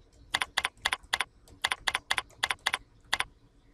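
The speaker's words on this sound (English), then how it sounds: "When selecting other, you can now type in the subject area." Fingers type on a computer keyboard in a quick, irregular run of about a dozen crisp, close key clicks, heard alone without speech.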